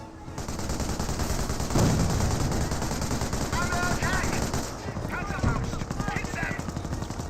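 Machine gun fire from Vickers emplacements in the World War II strategy game Company of Heroes, rattling in steady bursts amid other battle noise while a commentator talks over it throughout.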